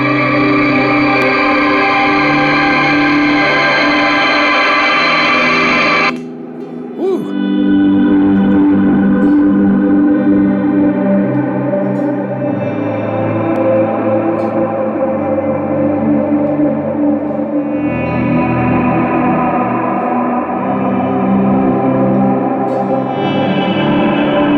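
Guitar through a Keeley Caverns V2 delay/reverb pedal set to shimmer, a bright sustained chord that blooms into a long, washy, echoing tail with layered swells, played alone without talk.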